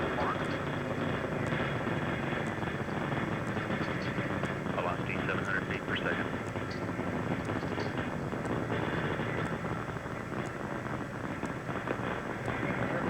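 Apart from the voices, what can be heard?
Space Shuttle Challenger main engines roaring during ascent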